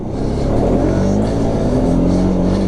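A Can-Am Outlander 450 ATV engine revs hard on a snowy, icy, muddy trail ride. The loud, close, sustained drone rises slightly in pitch as it accelerates, with no voices.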